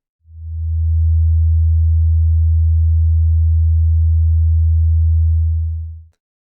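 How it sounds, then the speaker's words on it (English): A steady 81 Hz sine wave from an EMO signal generator, a pure low hum that fades in, holds at constant loud level for about six seconds, then fades out, with nothing else audible. "I have it set here to generate a 81 hertz sine wave"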